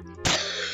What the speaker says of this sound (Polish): Nie wiedziałem, że duchy kaszlą.